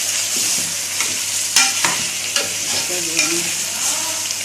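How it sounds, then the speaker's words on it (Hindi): About a kilo of chicken pieces fry in hot oil until golden, a steady close sizzle broken by the clatter and scrape of a spoon stirring the pan. "इसको हल्का सा फ्राई करना है गोल्डन।"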